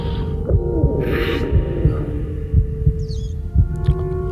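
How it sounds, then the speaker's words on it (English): A heartbeat throbs in the video game Little Nightmares. Deep, steady, evenly spaced thumps, about one per second, sit over a low droning hum, with faint higher tones drifting in the background. "Heartbeat that time."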